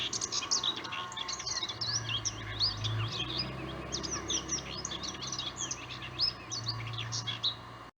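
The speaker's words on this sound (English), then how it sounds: "From the star apple tree on the side of their house, the birds also cheerfully sing as they eat" Several birds chirp and tweet in a star apple tree beside a house, a busy overlapping chorus of short calls near and far over a low steady background hum.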